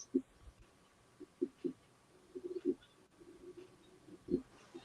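Doves or pigeons coo at a backyard bird feeder in soft, repeated low calls, a few scattered hoots spread through the stretch with quiet room sound between them.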